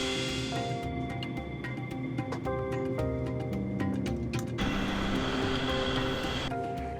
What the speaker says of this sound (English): The crew is flying a Boeing 737.